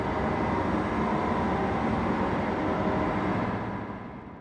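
A train's continuous rumble and rolling roar from a train simulator game, steady and loud throughout before easing off at the very end, with no talk over it.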